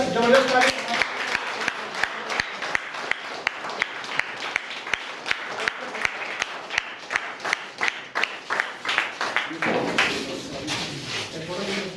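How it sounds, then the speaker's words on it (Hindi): A seminar audience claps to welcome a guest, producing rhythmic, evenly spaced hand claps in unison that break into looser applause near the end, with voices talking over it. "आइए सर, जबरदस्त ताली।"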